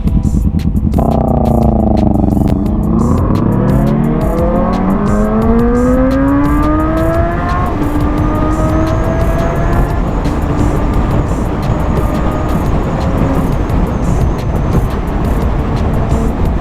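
A Suzuki GSX motorcycle engine revs hard and close, its pitch climbing through a long high-RPM pull before settling into a sustained loud roar.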